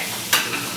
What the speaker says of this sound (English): Fry an egg.